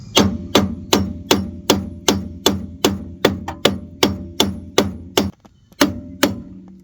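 A hammer strikes a Dodge Charger's metal suspension strut in a steady rhythm, about a dozen sharp ringing blows, then a brief pause and two more hits.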